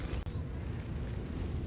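An S5 Redeemer Gatling gun in the Star Citizen space game fires ballistic rounds as a dense, continuous low rumbling roar that stays loud across the whole short burst.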